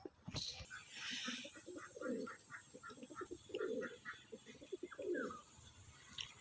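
Pigeons at a pigeon sale in Uluberia give repeated soft, low coos in a steady rhythmic series, fairly close, with a few faint chirps mixed in.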